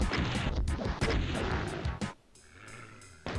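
A rocket fired in the video game DOOM, a harsh blast followed by crashing explosive impacts that cut off abruptly, loud and close, then a quieter tonal pause before another hit.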